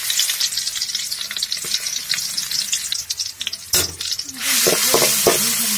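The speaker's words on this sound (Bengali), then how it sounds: "আদা রসুন ভালো করে ভেজে নেব।" Ginger and garlic fry in hot oil in a wok, giving a steady close sizzle with stirring scrapes, then a louder, fuller sizzle toward the end, with no talking.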